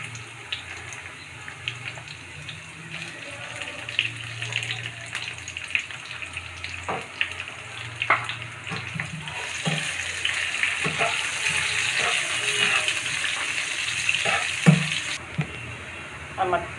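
Chopped onion frying in oil with bay leaves, a continuous close sizzle with occasional utensil clicks and stirring, building louder in the second half.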